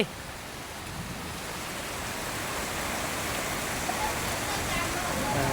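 Dense, steady hiss of heavy rain pouring down, growing slightly louder over a few seconds, with no other sounds standing out.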